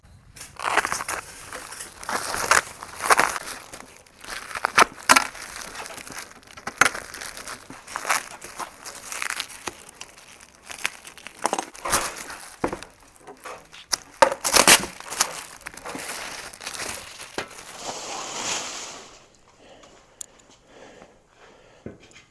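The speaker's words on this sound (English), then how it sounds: "Let's go ahead and get this guy unwrapped" Crinkling and tearing of packaging as a catalytic converter skid plate for a 2023 Toyota Tundra TRD Pro is unwrapped, irregular rustling bursts close by for about twenty seconds before fading to quiet.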